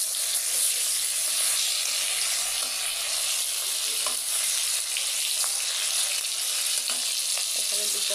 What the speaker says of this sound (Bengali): চিংড়ি মাছটা ভাজছি